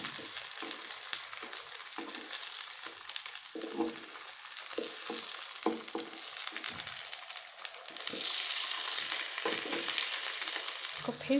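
Pieces of Bhetki fish paturi fry in a pan after being turned over, a constant crackling sizzle broken by scraping and shuffling as the utensil works underneath, close and moderately loud, no speech.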